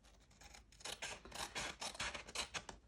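Scissors cut through gift wrapping paper around a chocolate bar in a steady series of close, crisp snips and rasping slides, with no voices.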